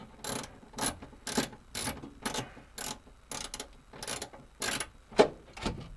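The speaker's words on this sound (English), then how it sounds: "I'm wondering if I can get the wrench in there or the ratchet." Ratchet wrench turning a threaded bolt on a truck, about ten quick clicking bursts at an even rhythm, close and fairly quiet, with no talk.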